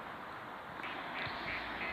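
Ducks quack softly by a garden path near Whittington Castle in Shropshire, a few faint, scattered calls over steady outdoor background noise.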